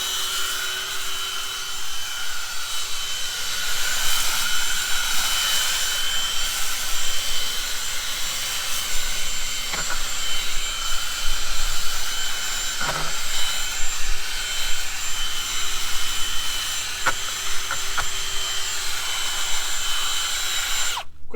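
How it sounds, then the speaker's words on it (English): A power drill on speed setting 1 whirs continuously at a high, steady pitch, its tone wavering slightly as the spinning wheel brush presses and shifts against a car wheel. "We're going to set our drill on 1 and go."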